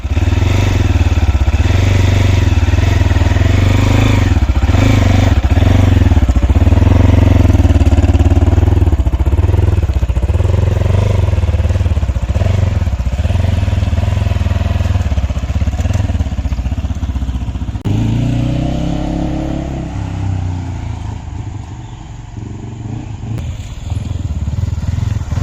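Road Prince RX3 Cyclone 250cc motorcycle engine running steadily throughout a ride, a loud continuous mid-pitched drone with repeated throttle swells and a brief drop-off near the end, with no voices.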